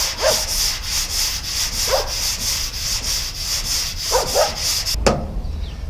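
Rhythmic sanding strokes scrape back and forth over high-build primer on a car body in a steady pattern, close by, with a higher-pitched electrical whine running underneath.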